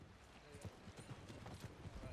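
Horse hooves clip-clopping in a Wild West roleplay video game, a quiet, steady run of soft hoofbeats in even rhythm under low background noise.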